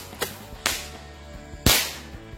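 Tora-tora firecrackers burst outdoors on the eve of Eid in Indonesia, three sharp loud cracks at uneven gaps over a low background hum, with no talk.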